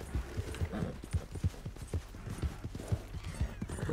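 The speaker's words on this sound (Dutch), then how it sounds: "Mijn paard is weer eens in paniek." In the Red Dead Redemption 2 video game, a panicking horse's hooves clip-clop in a steady, quick rhythm, with occasional whinnying mixed in, heard fairly close but at low volume.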